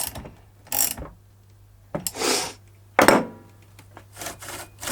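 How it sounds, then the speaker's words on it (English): Wrench tightening a nut and bolt on a 1982 Dolmar 100 chainsaw, heard as three separate bursts of ratcheting and scraping metal at about one-second intervals, close and fairly loud against quiet pauses. "So I'm going to do this bolt up,"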